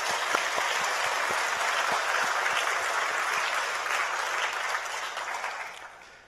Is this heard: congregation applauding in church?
yes